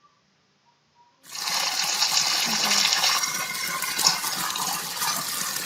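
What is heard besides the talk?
flowing water from a bottle into a river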